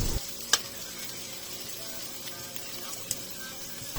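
Sautéed sardines sizzle steadily in a pan as they are stirred, a continuous close frying hiss broken by a couple of sharp clicks of the utensil against the pan, with no talking.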